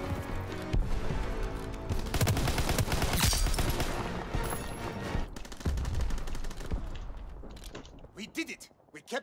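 Gunfire in Call of Duty WWII fills the clip with rapid, overlapping bursts of automatic fire and single shots, dense and loud for most of its length before thinning into scattered cracks near the end.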